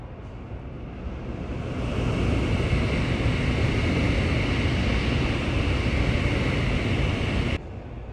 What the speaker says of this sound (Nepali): लास्ट एकचोटि म तपाईँहरूलाई बुलेट ट्रेन देखाउँछु